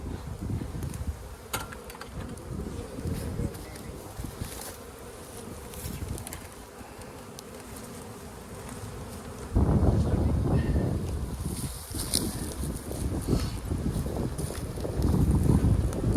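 Dense, steady buzzing of a mass of honeybees close by at an open hive, about six or seven frames' worth, swelling louder partway through, with some wind rumble and handling noise.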